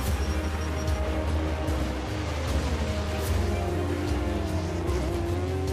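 Porsche and Audi race cars compete in an endurance race, producing a continuous loud roar of engines with shifting pitch and brief tire squeals, with no voices.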